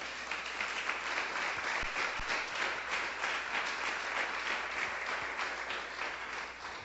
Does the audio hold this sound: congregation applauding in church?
yes